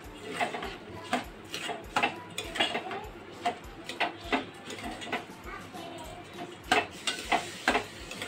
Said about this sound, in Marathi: याच्यामध्ये आपण आता तांदूळ टाकून घेतले आहेत, ते छान असे तुपामध्ये भाजून घेऊया